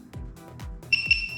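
A Moes no-neutral RF smart switch gives a sharp, high electronic beep during pairing. The beep arrives late, after several soft dull thumps, and sounds close and fairly quiet.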